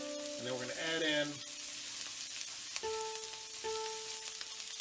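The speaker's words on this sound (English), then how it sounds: "you just want to saute that down, or stir fry it down just for a couple seconds" Vegetables stir-frying in a pan for fried rice, a steady moderate sizzle running throughout with a few brief clinks and tonal kitchen sounds over it, no talking.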